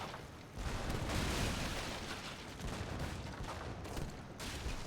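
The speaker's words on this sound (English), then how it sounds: "these cannons, man, they do a lot of damage versus boats" Cannon fire in Age of Empires 3, a real-time strategy game, with cannons pounding boats: a dense, continuous rumble of overlapping booms and blasts, steady and loud throughout with no talking.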